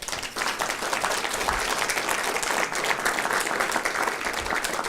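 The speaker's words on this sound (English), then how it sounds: "Let's give a round of applause." Audience at a medical school panel event breaks into sustained applause, a dense steady wash of many clapping hands lasting several seconds, fairly close and with no speech over it.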